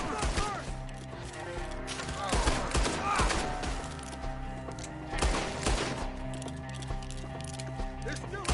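Rapid bursts of video game gunfire crackle in repeated volleys against a busy game soundscape, while players shout excitedly over the shots.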